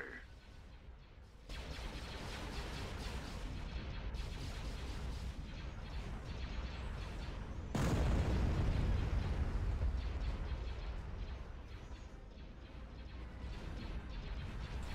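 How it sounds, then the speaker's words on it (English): Big explosions in the Star Wars: Empire at War space strategy game, a loud sustained rumbling boom erupting mid-clip over continuous battle noise and mechanical din, with no talk. "I heard an explosion, a big one."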